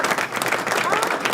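Hands clapping during a talk show, dense rapid claps close up mixed with voices talking over them, brief and loud.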